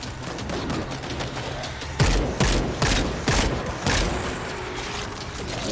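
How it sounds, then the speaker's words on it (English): Machine gun fire in the zombie shooter World War Z, with several loud, sharp bursts in quick succession over a continuous background of game noise, close and dominant. "Machine gun."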